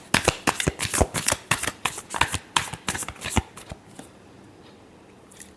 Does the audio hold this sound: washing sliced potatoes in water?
no